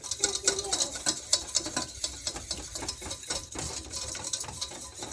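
Ingredients for a smoked Gouda cheese sauce are whisked in a bowl, a quick close series of rhythmic metallic clicks and scrapes with brief pauses, and light talk now and then.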